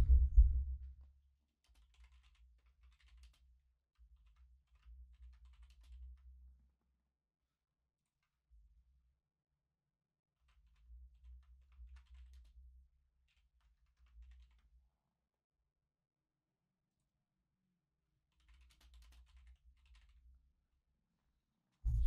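Typing on a computer keyboard during a livestream, with soft scattered clicks in short bursts separated by quiet gaps, faint and close.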